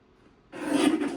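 A paper trimmer cutting a sheet of paper: a single short, rasping slice that starts abruptly after a moment of quiet and holds steady to the end.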